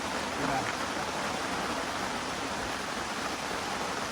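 Steady rain pours down near Lam Takhong, a dense, even hiss that holds unbroken from start to finish at a fairly loud level.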